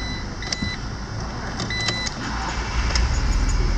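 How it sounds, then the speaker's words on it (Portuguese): A 2014 Fiat Punto Blackmotion 1.8 16v Flex starts up inside the cabin, with short electronic beeps and a steady engine hum that swells slightly toward the end. "Vamos ligar o carro aqui."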